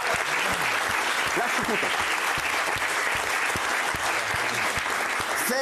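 Studio audience applause on a French talk show welcoming an author, a loud continuous burst of clapping that stays even, with someone briefly speaking over it.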